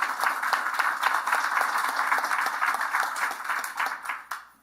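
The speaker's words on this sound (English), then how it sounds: "So just a round of applause for that." Applause from an audience at a May 2024 event honouring Joey Moss, a steady wash of many hands clapping that holds evenly and then tapers off near the end.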